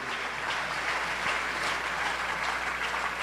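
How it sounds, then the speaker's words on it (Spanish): A church congregation applauds together during a Spanish-language sermon, a steady, dense wash of clapping that holds at an even level throughout with no voices standing out. "Dale un aplauso al Señor."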